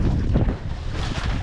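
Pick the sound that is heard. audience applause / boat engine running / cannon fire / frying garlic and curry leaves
boat engine running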